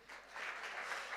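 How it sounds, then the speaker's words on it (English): A short burst of audience applause, many hands clapping together at a talk event, rising quickly and holding steady for about a second. "Give it up a round of applause"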